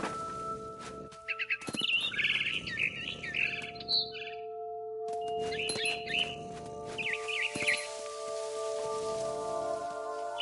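A frightened barn swallow returning to its nest gives bursts of sharp, high chirps in two clusters, close by, over a steady background hiss with faint tonal hum.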